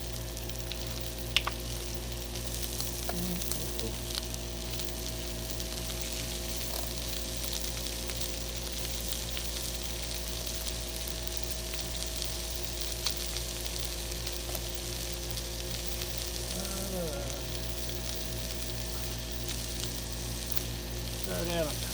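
Wieners fry in butter on a griddle turned down to low, giving a constant, even sizzle that runs the whole time, with a few faint clicks and light scrapes over it and no clear talk.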